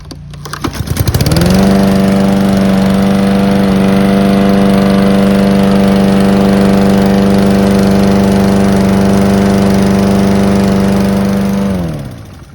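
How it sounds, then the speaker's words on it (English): A fairly new lawn mower in good running condition starts with a few sputters and then holds a loud, steady engine drone up close for about ten seconds before cutting off. "my mower here, which is a fairly new mower and in good running condition, you can see it's about like 95 decibels"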